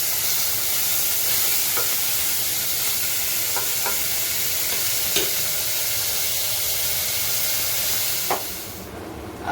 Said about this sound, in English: Okay, so now we're gonna add our chicken pieces.